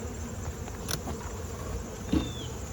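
Bees hum at a feral beehive, a faint, steady drone close by with a brief louder buzz as one passes near.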